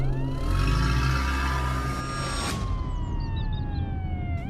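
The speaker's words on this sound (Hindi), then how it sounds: "तभी पुलिस की गाड़ी सुरेश के घर आती है।" A police siren wails nearby, its tone sliding up and down in long sweeps over a low engine rumble, loud and continuous with no talking.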